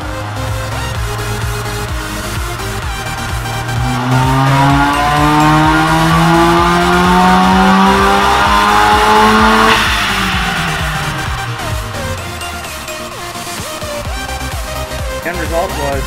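A loud supercharged four-cylinder Eclipse engine, hot on its third dyno pull, revs steadily upward to a high-pitched scream near 6,200 RPM, then abruptly drops off and settles into a rough idle.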